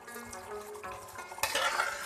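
A spoon stirs and scrapes through thick chicken karahi gravy frying in a pan, a soft steady sizzle with a louder clatter of metal near the end.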